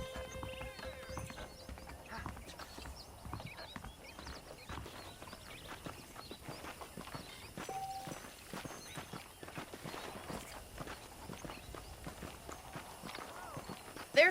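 Horses walk with steady clip-clop hooves and an occasional neigh in the video game Red Dead Redemption, quiet but continuous across the scene with no talk over it.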